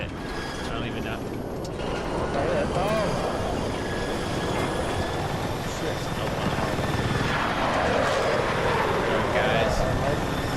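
A helicopter in the video game Battlefield 6 whirs with a steady rotor and engine drone, loud and continuous, while players talk over it.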